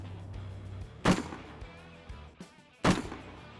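Rifle shots on an army shooting range, two distinct sharp reports about two seconds apart with a few softer thuds in between, heard at moderate distance with no talk.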